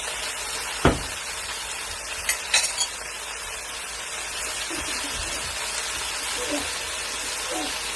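A spoon stirring Iraqi okra stew in a pot gives a sharp clink against the pot early on, then a few scraping knocks, over a steady hiss of cooking.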